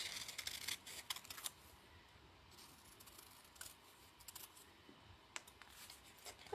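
Scissors snip out fabric pieces for a handmade bag, quiet crisp clicks in short bursts separated by pauses, close and alone with no talking.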